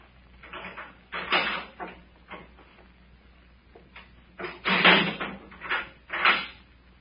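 Wooden door sounds in a 1944 radio drama: a series of muffled knocks, creaks and latch clunks of moderate loudness, with a louder cluster of thumps near the end and no speech.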